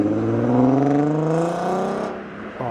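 A six-cylinder diesel car at a car meet revs up loud and close, rising in pitch and holding, then drops sharply back toward idle near the end.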